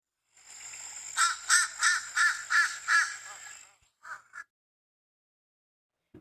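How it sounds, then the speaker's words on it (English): Fish crow calling alone: a run of five nasal caws in steady rhythm, then two shorter, softer calls after a pause, fairly close with no talk. "And this is a fish crow sound."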